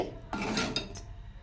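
Chicken pieces being mixed into a spicy pickle in a bowl, a brief scraping and clinking of a spoon against the dish, soft and close, a few quick strokes.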